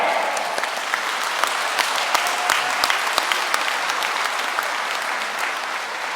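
A congregation at a farewell thanksgiving Mass for a retiring Catholic bishop in Jeju applauds, dense sustained clapping from many hands filling the hall, steady and fairly loud throughout.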